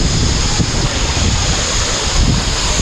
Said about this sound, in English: Here we are at the big waterfall.